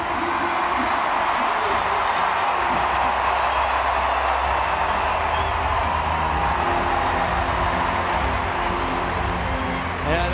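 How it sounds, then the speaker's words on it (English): Large crowd roaring and cheering in the Olympic Stadium during an athletics sprint, a dense steady wall of voices filling the space throughout with no let-up. "this big crowd here in the Olympic Stadium, hoping he can give them something to cheer"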